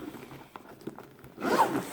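A zipper on a diamond painting storage case is pulled in one quick, close run near the end, after quiet handling and faint rustles.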